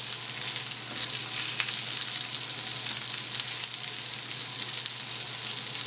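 Salmon sizzles steadily in a hot pan, a constant close crackle and hiss with no pauses.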